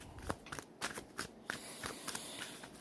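Oversized tarot cards being shuffled and pulled by hand, a soft run of papery riffles, flicks and slaps in an uneven rhythm, close but quiet, with no talking.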